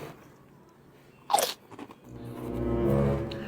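A crunchy cereal-like snack topped with matcha sauce is bitten with one sharp, close crunch, then a few softer chewing crackles, followed by muffled sounds.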